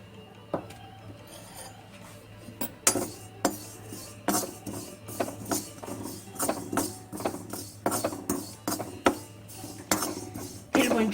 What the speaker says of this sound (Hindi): अब हम पहले तिल को भूनेंगे। बिना घी के भूनना है।